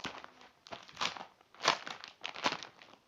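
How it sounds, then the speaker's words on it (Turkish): Crinkling plastic of a 2014-2015 Champions League trading card pack wrapper being torn open, several close crunchy bursts of crackling with short pauses between them. "Evet paketi açtık."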